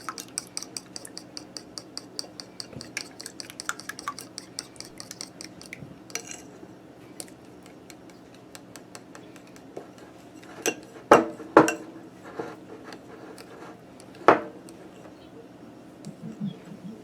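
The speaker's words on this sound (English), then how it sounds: "we're going to mix those 2 ingredients up" Two ingredients stirred together in a bowl ahead of melted butter, with a utensil clinking and scraping steadily against the sides, a few louder knocks near the end, no talking.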